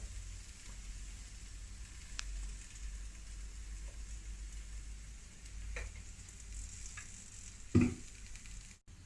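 Olive oil heats in a hot pan before pasta masala is cooked, giving a quiet, even hiss with a few scattered ticks and a brief louder knock near the end.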